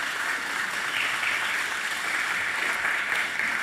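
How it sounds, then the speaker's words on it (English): An audience at a public meeting on an environmental impact assessment gives a round of applause, a dense, steady wash of many hands clapping at an even level throughout. "let's give the consultants a round of applause for their presentation"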